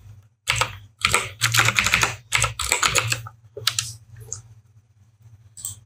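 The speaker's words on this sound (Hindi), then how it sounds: "सारा कैपिटल में मुझे टाइप करना है" Close, fast keyboard typing in bursts of clustered clicks, with short pauses between runs, over a steady low electrical hum; letters for a web design layout are typed in capitals at a computer.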